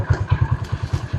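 A motorcycle pulling away on a road, its engine giving a close, low, rapid chugging pulse that stays steady over a short moment.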